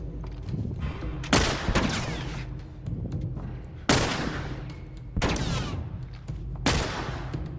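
Gunfire from The Last of Us Remastered on PS5: four loud, sharp shotgun-like blasts at irregular intervals, each with a decaying tail, over a low background rumble.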